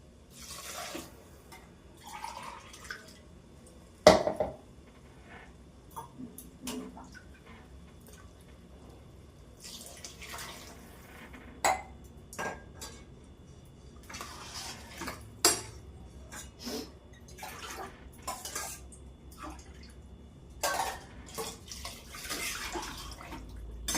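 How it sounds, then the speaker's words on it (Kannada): Water is poured from a glass into rice in a cooker for vegetable pulav, several short, close splashing pours separated by pauses, with occasional clinks of metal utensils in a quiet kitchen. "ಅಕ್ಕಿನ ಇದಕ್ಕೆ ಈಗ ನೀರು ಹಾಕೋಣ."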